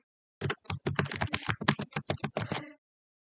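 A password being typed on a computer keyboard, a quick run of about fifteen crisp, close key clicks in an uneven rhythm, with no speech.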